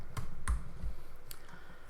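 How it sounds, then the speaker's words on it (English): Someone types on a computer keyboard, a few sparse clicks and taps heard close and fairly quiet, with no talking. "typing in Star Market Alston."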